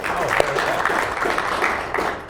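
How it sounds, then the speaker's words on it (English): An audience applauds to welcome a guest on stage at a live event, a dense steady patter of clapping across the whole moment, fairly loud and close. "Let's give him a round of applause."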